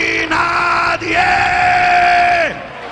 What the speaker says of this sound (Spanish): Alguien grita esta noche.